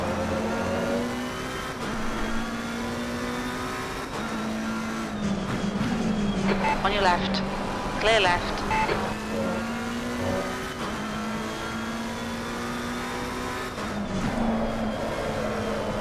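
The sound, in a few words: race car engine in a racing sim game, drifting in oversteer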